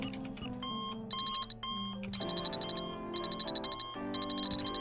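In the Deathloop video game, several alarm clocks ring at once, layering bright repeating electronic beeps and trills that pulse loudly and steadily with no speech.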